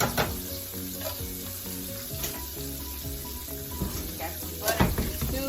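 Fish and green beans fry in a pan with a steady, crackling sizzle, punctuated by sharp pops and spatters, close and clear throughout.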